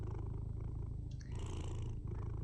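A cat in the video game Tokyo Dark purrs in a steady, low, rumbling cycle, close and continuous, with faint higher background tones.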